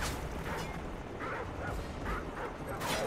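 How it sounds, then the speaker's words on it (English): Two dogs bark in a Call of Duty Modern Warfare 3 Survival Mode match on the Boardwalk map, short yips and barks repeating under steady game noise and distant gunfire. "There's a dog. Oh, it's two dogs."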